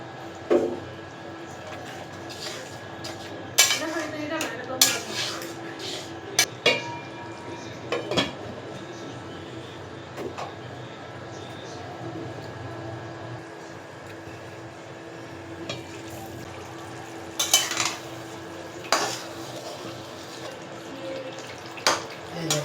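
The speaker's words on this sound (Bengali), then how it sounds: "কাঁঠাল বিচিটা এটা দিয়ে দিলাম" Jackfruit seeds tip into a pot of chicken curry in a village kitchen, with clattering pot and utensil knocks and scraping stirs over a steady low simmer, sharp clinks scattered throughout.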